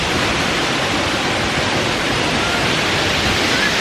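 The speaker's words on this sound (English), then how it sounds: "Just another waterfall." A powerful waterfall on a hiking trail roars in a steady, loud, close rush of broadband water noise that holds evenly throughout with no voices.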